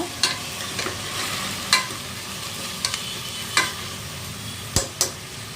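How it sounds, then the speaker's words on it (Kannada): Sprouted grains stirred in a pan on low flame for sambar, giving a steady soft sizzle with about eight sharp scraping clicks of the spoon at irregular intervals, close and moderately loud, with no talking. "ನೀರೆಲ್ಲ ತೆಗೆದು ಮೊಳಕೆ ಕಾಳನ್ನ ಹಾಕೋತಾ ಇದ್ದೀನಿ"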